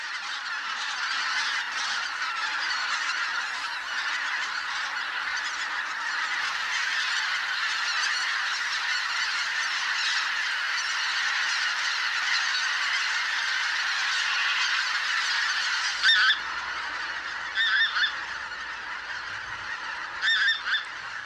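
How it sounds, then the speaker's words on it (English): Thousands of bean geese and greater white-fronted geese resting on the Morava River floodplain honk in a dense, continuous chorus, many overlapping calls near and far, with a few louder honks standing out toward the end. "In October, thousands of bean geese and greater white-fronted geese descend on the Morava's banks."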